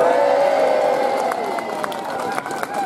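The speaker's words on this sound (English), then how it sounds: "A big round of applause for Keith." A crowd at an NHS march and rally cheers and claps in a sustained roar, with scattered sharp claps and whoops over a dense wash of voices.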